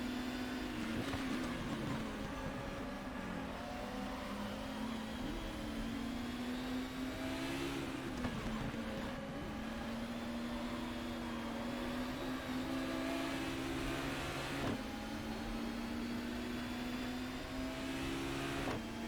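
A race car engine in GTR 2, in a 1994 BTCC touring car round at Silverstone, drones steadily and rises and falls in pitch as the driver revs and shifts. It is continuous and moderately loud, with no talking.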